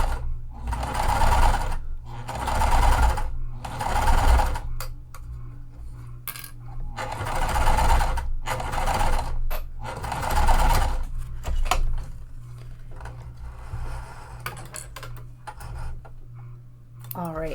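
A sewing machine top-stitches through printed vinyl and mesh for a pool tote in several steady whirring bursts with pauses between, close and fairly loud, with a faint low hum beneath.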